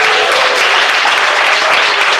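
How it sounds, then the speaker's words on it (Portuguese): A church congregation claps hands together, a loud, steady wall of dense applause filling the whole moment without pause. "E bate palmas."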